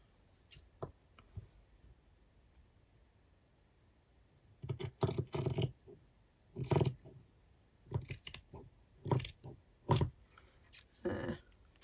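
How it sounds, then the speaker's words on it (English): Long scissors snip through folded paper while a small autumn journal is made, a series of sharp crisp cuts in uneven bursts, close and clear against a quiet background after a few light handling sounds. "get my long scissors."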